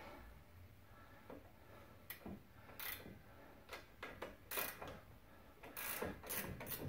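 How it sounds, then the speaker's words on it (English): Ratcheting wrench turning a bolt on the front strut of a 2006-10 Ford Explorer, heard as close, quiet bursts of rapid clicking with short pauses between strokes. "get our ratcheting wrench on it"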